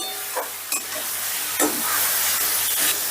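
Fried potatoes being stir-fried in spice masala in a pan, a continuous close hiss of frying broken by several quick scraping strokes of a spatula.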